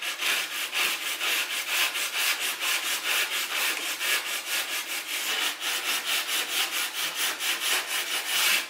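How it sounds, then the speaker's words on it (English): A drywall rasp is pushed along a cut drywall edge in quick, even back-and-forth strokes, giving a steady rhythmic scraping and shaving sound close up with no talking. "this is a drywall rasp"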